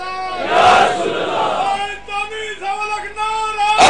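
A crowd at a Shia religious gathering shouts a slogan together in loud, ringing bursts. A strong lead voice rises and falls over the mass of voices.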